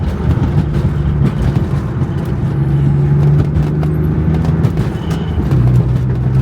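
Inside a BMW E36 fitted with a short shifter, the engine hums loud and close with a low, steady drone whose pitch steps up and shifts as the driver rev-matches into third gear.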